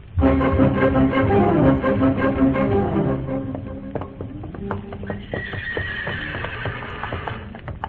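A horse neighing sound effect for a radio show paddock scene opens with a loud, drawn-out whinny, followed by scattered hoof clops and snorts, then a second, higher whinny trailing off near the end.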